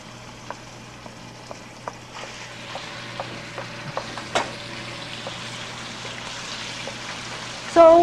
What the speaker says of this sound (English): And then we fry in the pork first.